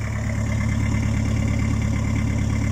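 Mitsubishi L200 DiD diesel engine fitted with a big Borg Warner turbo conversion, idling steadily with an even low rumble and faint turbo whine, close and constant, with no talk.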